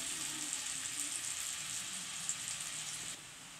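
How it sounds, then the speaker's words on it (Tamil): Strained water from the ash gourd simmering in a pan for Kasi halwa, a steady soft bubbling and seething hiss that continues evenly at moderate level and then drops slightly at the end. "இப்போ நல்லா கொதிக்குது."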